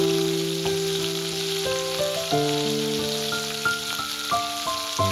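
Steady crackling sizzle of ginger and garlic frying in hot oil, with music playing over it and no talking.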